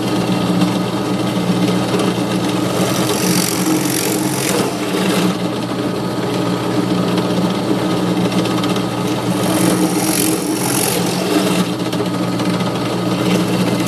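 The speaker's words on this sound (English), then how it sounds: "Let's take this over to the drill press now and drill out the two eyes" A drill press runs steadily to drill eye holes in a small wooden reindeer cutout, a continuous whirring motor hum with slight rises as the bit bites in.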